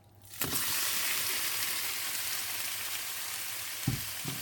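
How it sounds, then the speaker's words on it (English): Three chopped chicken breasts frying in a large pan on the hob, giving a steady, loud, dense sizzle with a couple of small pops near the end. "the chicken's been frying for a few minutes"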